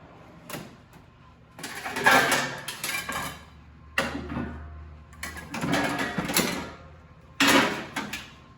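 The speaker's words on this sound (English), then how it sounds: "gotta get the roasting pan." An old Corningware roasting pan is pulled out of storage, with a few separate bursts of clattering and rattling, cupboard knocks and shuffling spread across the moment, close by and moderately loud, with quiet gaps between.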